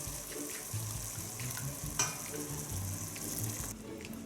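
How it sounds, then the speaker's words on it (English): Broth ladled into sizzling saffron risotto rice, a steady frying hiss with a brief splash as the liquid hits the pan, close and fairly quiet, with no talking. "Okay, so now for the broth, start with 2 to 3 spoons of this."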